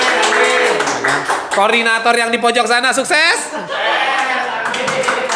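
Audience members at a podcast recording clap in short bursts around someone speaking and laughing, the clapping mixed under talk and chuckles.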